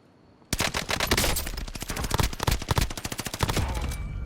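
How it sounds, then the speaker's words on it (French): Rapid bursts of automatic gunfire close by in a video game, a dense rattling stream of sharp cracks beginning abruptly and continuing loudly for about four seconds. "Ça tire juste à côté, mais pas sur nous."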